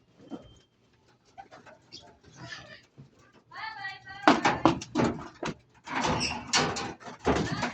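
Pigeons coo and rustle inside a bird loft, with soft burbling calls rising to livelier, louder activity, along with faint bumps and nearby voices.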